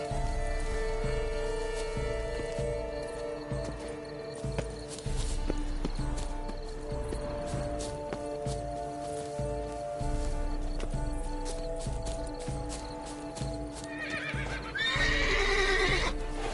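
A horse in the Witcher 3 video game snorts and whinnies loudly near the end, after steady hoof clip-clops and soft movement against a humming ambient game soundscape.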